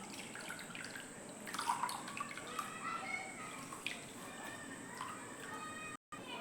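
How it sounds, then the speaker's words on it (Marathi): Half a head of cabbage being washed in water, with soft splashing and dripping up close, faint and steady, broken by a short silent gap near the end. "मग कोबी आपण धुवून घेऊयात."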